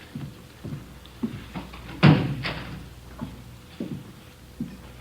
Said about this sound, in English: Would you close the door, Friday?